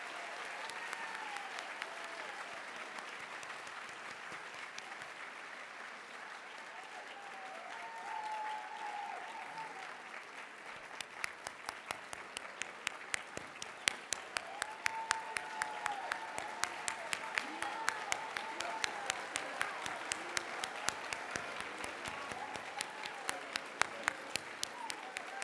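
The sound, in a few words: audience applause for hall of fame inductees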